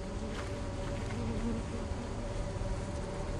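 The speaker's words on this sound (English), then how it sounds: "You go grab the bees." Bees buzz steadily in the video game Lethal Company, a faint continuous droning hum with a slight wavering texture and no voices over it.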